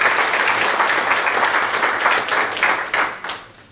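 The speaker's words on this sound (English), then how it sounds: "So give Mr. Ramsaran a big applause." Audience applause for Mr. Ramsaran, a General Manager of Product Development, at a sport marketing and sponsorship event in Trinidad and Tobago: dense, steady clapping from a room full of people, fading slightly toward the end.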